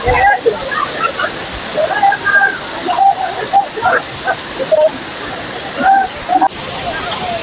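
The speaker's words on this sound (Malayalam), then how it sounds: "ഈ വെള്ളച്ചാട്ടത്തിന് മൊത്തത്തിലുള്ള വ്യൂ ആണ് നമ്മളിപ്പോൾ കാണുന്നത്." Arikkal waterfall, a multi-tiered cascade with a check-dam section, pours in a steady rushing wash of falling water, with a voice speaking intermittently over it.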